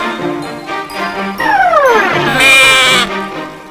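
A goat bleats several times with wavering, drawn-out cries and a faint bell tinkle, close and clear with no talk.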